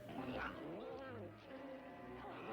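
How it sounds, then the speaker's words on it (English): A cat's snarling, yowling attack cry from a 1970s TV monster movie, a drawn-out wavering howl under a soundtrack mix, faint overall. "Rena then attacks Edmonds in cat form"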